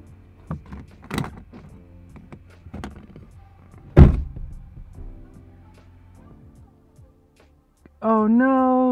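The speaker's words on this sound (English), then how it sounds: "Just make sure this door's shut." A 2020 Nissan Altima door shuts with a single solid thunk midway, preceded by faint handling clicks and rustles inside the car, then a loud steady electronic tone at the end.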